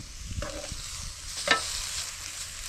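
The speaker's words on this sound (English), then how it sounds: "Just going to cook this up. Look at that. Beautiful bits of coral trout." Pieces of coral trout frying in a pan, with a steady close sizzle and a brief stir or scrape partway through.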